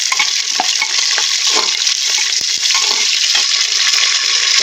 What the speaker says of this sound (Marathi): चांगलं परतून घेऊ हिरवी मिरची टाकली याच्यामध्ये थोडीशी लाल मिरची टाकली